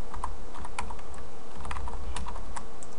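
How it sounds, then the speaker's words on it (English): Rapid typing on a computer keyboard, a close, steady patter of crisp key clicks over a low background hum, with no voices. "I'm going to go ahead and type in the word"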